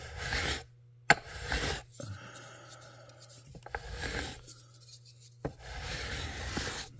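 Steel file rasping across newly installed fret wire on a guitar neck during a fret-leveling repair, several bursts of scraping strokes with short pauses between, close and fairly loud with a steady low hum beneath.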